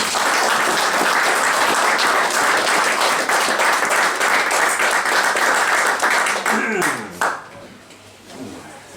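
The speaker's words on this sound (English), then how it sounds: "would you give him a warm round of applause" Warm audience applause at a spoken-word event in a Clonakilty bar, dense and sustained for about seven seconds, then tapering off into a few scattered claps and room noise.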